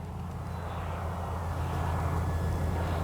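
A Kavan Pilatus PC-6 Porter radio-controlled model plane drones along in the evening, a steady moderate engine hum that swells slightly as it passes during a touch-and-go, with no talk.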